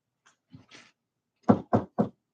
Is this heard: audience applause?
no